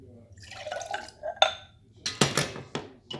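Orange juice poured into a mason jar in a home kitchen, heard as a few short splashing, trickling bursts against the glass with brief clinks, close and fairly quiet.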